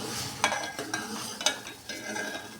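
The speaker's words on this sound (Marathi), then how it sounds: "आता आपण याच्यामध्ये हे पीठ हालून घेऊ पळीच्या साहाय्याने." A ladle stirs flour into boiling water for steamed modak dough, making several scraping, sloshing strokes in a pot, fairly quiet and without talk.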